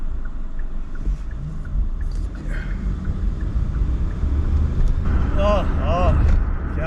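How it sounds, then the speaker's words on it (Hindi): Steady road traffic on a busy street in Canada, a continuous low rumble of passing vehicles with a louder swell near the end, heard outdoors in wind. "ये रोड पे तो हमेशा ही ट्रैफिक रहता ही रहता"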